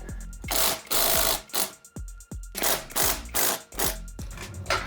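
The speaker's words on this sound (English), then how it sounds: "we're gonna start by loosening both wheels using a 19mm socket" Rapid ratcheting bursts from a 19mm socket wrench loosening the wheel nuts on a Jeep during a 3.5-inch lift kit install, several loud close clicking runs separated by short pauses.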